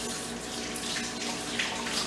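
Tap water runs steadily into a kitchen sink for hand washing, a continuous close splashing hiss with no talk.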